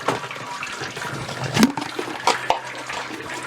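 Hot sparge water pours and splashes over mashed grain in a Grainfather all-in-one brewing system, a continuous rushing, gurgling flow with a few sharper splashes and knocks, close up and without speech.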